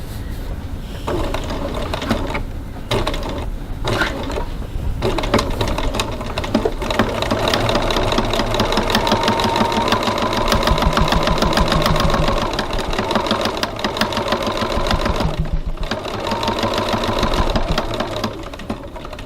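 Sewing machine running steadily while top stitching piping at a 3.2 stitch length, a fairly loud continuous mechanical whir with rapid needle chatter throughout, pausing briefly now and then.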